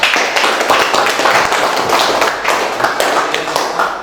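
Applause for a student group at a Universitas Negeri Yogyakarta session, a brief burst of close, scattered hand-clapping over about four seconds.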